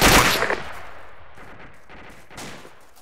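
Gunfire in the military game Arma 2: one loud close shot that rings out and fades, followed by two fainter, more distant shots spaced about a second apart.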